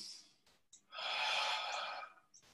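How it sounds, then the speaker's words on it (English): A single deliberate breath, a soft sniff in followed by a long, audible exhale lasting about a second, close and quiet with faint breaths around it and no talking. "a conscious breath. Conscious breathing, it does so much."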